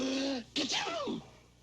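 Another performed sneeze from the cartoon NBC peacock during its sneezing fit: a voiced, whining inhale breaks into a sharp, loud sneeze, then trails off in a fading wheezy tail, close and alone.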